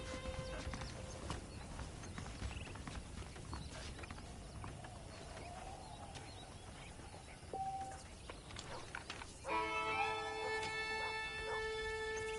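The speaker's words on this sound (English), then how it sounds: "The horses are saddled up over here." Horses clip-clop in Red Dead Redemption, a steady hoof rhythm over a busy in-game ambience, with a brief tonal cue and then a louder musical swell near the end.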